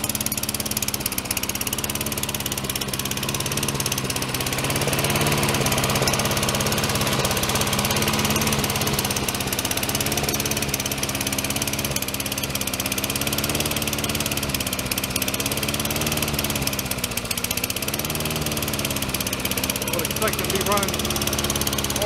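Small lawn mower engine running roughly up close, with an uneven, lumpy drone and wavering revs throughout.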